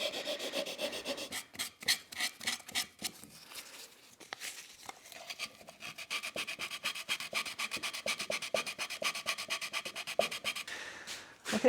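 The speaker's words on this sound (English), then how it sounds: "So the more I go at it, even with the sandpaper, it just keeps pulling out bits." Sandpaper scrubs rhythmically against a soft, punky spalted beech bowl spinning on a lathe, with close, repeated rasping strokes that run fast and continuous, pausing briefly partway through.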